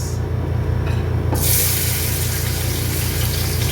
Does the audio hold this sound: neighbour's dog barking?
no